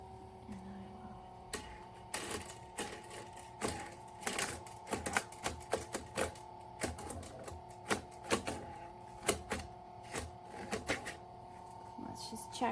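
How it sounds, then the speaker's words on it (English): TIANSE electric spiral coil binding machine feeding a plastic coil through punched pages: a quiet motor hum under sharp, irregular clicks and ticks, with a person talking throughout. "I like to get it through just a little ways before I turn the machine on."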